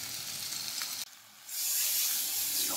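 Fried prawns go into a jackfruit and prawn curry (enchor chingri) cooking in a pan over low heat, giving a steady close sizzle that briefly drops away, then returns louder and fuller.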